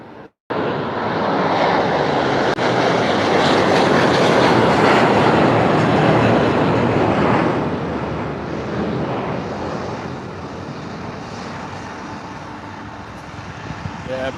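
A Virgin Atlantic airliner roars past during plane spotting, a loud, broad jet rumble that swells over the first few seconds, then slowly fades while staying audible, with voices briefly at the very start.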